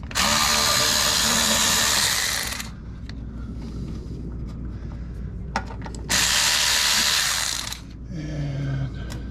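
Ratchet wrench working a 10 mm bolt on a 2004 Chevy Avalanche with the LS 5.3L engine during rear main seal work, heard as two loud bursts of rapid clicking with a few sharp metallic ticks between them, close to the listener.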